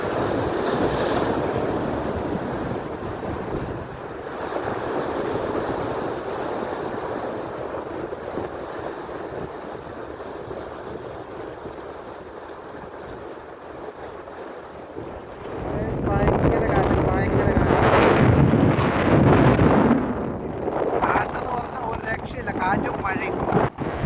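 Strong wind roars and buffets the microphone over open water, growing louder and gustier toward the end, with a voice faintly audible beneath it.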